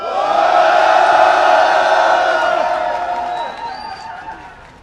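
A political rally crowd roars a sustained collective shout in unison, loud and near, swelling then fading over several seconds.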